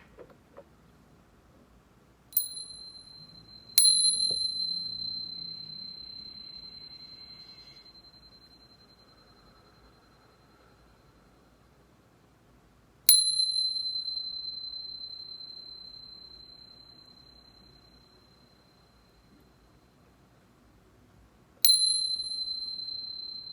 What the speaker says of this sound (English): let's chime